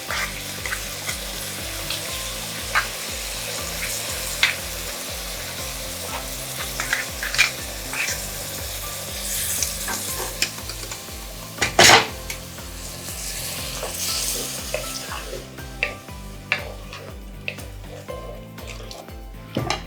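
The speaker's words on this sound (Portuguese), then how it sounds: "queime a calabresa e o bacon" Calabrese sausage and bacon fry in a pot, giving a steady close sizzle with crackling pops and scattered clinks of a spoon stirring, one sharp scrape near the middle and no voices.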